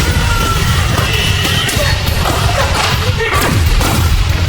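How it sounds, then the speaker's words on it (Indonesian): An explosion in a film, set off by a bomb strapped to a mouse, fills a room with a loud, dense rumble of booms, crashes and thuds that stays heavy and continuous throughout. "Tikus yang sudah dipasang alat peledak itu lalu lari dan meledakkan seisi ruangan."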